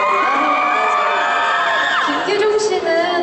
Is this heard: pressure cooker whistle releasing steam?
no